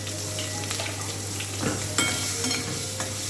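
Onion hits hot mustard oil tempered with panch phoron for katla fish kalia, a loud continuous sizzle with bursts of spitting and spoon scrapes against the pan, no talking.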